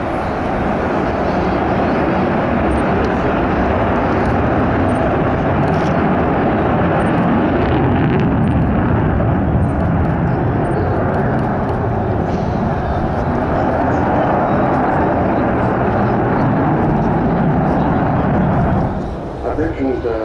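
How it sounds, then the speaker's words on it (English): Deep, continuous jet roar of a Vulcan B2 bomber flying at the RIAT airshow, loud and rumbling at full strength across the whole stretch, with a commentator's voice talking over it. "This particular aeroplane was the first B-2 version of the bomber, second mark, into RAF service in Bomber Command in 1960."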